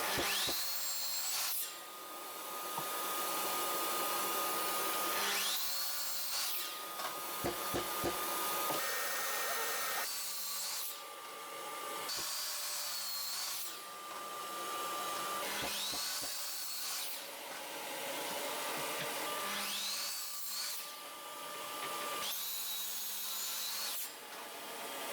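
A miter saw cuts a 2x4 at a budget miter station, with several loud passes: the motor whines up, bites through the wood, then spins down in a repeating pattern, each run separated by brief, quieter gaps.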